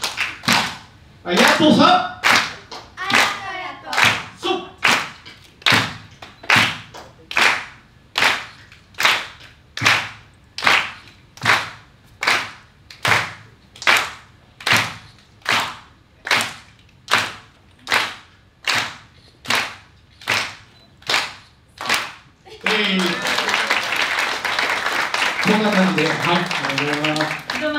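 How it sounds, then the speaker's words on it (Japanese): An audience claps along in time to an Awa odori dance performance at a Japanese press event: some two dozen sharp, evenly spaced claps, with shouts and chanting at the start, ending in a burst of broad, sustained applause. "じゃあ皆さん、あの手拍子お願いしますね。"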